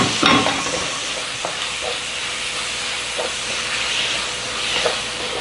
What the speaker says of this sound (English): this is very, very fine ground meat stir fry